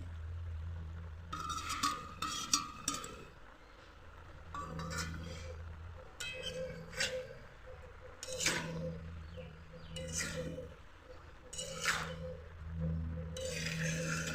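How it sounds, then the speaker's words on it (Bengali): A spoon stirs ground spice paste into a pot of vegetarian cabbage ghonto, giving quiet, intermittent clinks and scrapes against the pot over a faint low hum. "ভালো করে নেড়েচেড়ে মশলাটাকে মিশিয়ে নেব।"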